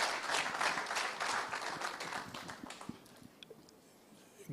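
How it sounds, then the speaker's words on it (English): An audience at a cohort demo day gives a round of applause, a burst of clapping that peaks early and thins out to a few scattered claps over several seconds, moderately distant. "Round of applause, please."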